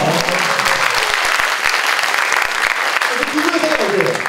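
A studio audience at a talk show applauds, a dense steady burst of clapping that fills the whole stretch, with voices faintly mixed in beneath it.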